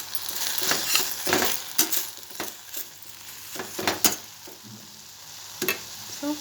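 Chopped tomatoes with rock salt sizzle in a pan while a spoon stirs them, a steady frying hiss broken by scraping strokes and occasional clinks against the metal.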